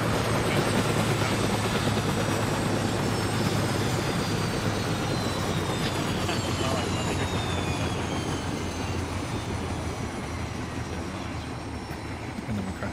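Helicopter rotors in the ARMA 3 video game spooling down, a loud continuous whir and broadband rumble with slowly falling whine lines, steady throughout and easing slightly toward the end.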